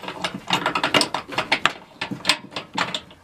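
A hand ratchet clicks in quick bursts of rapid pawl clicks, close and crisp with short pauses between strokes, while bolts are tightened on a VW camper swivel seat.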